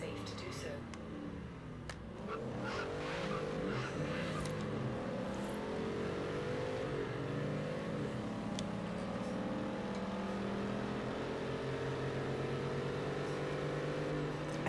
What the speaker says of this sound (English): I love the sound of the V8, or whatever engine this car has.